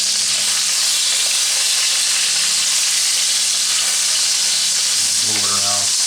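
Tri tip searing in a cast iron Dutch oven makes a loud, close, constant hiss and crackle of hot fat, with a brief scrape of the meat being moved near the end.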